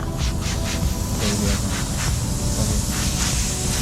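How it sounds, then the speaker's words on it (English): A steady, loud hiss of liquid sprayed onto a leaking tire to find the leak, continuous and close, with faint rhythmic pulses running underneath. "it's actually leaking air right now, so I'm gonna spray it again just to find it"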